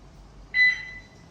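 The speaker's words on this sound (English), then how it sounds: "We turn on our switch, ignition lock." Turning on the ignition switch of a 10-meter electric city bus with an EV conversion kit gives a single short electronic beep, clear over a low background hum.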